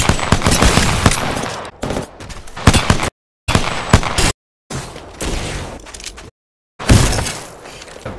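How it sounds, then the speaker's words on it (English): Enemy gunfire in the video game Apex Legends: loud, rapid bursts of automatic shots arrive in several separate volleys, broken by brief gaps of silence. "The enemies are shooting at me."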